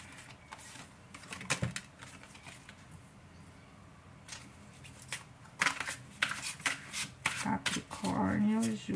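A deck of tarot cards is shuffled and cards are flipped over, giving soft riffling, sliding and snapping sounds up close, with a voice talking intermittently over them.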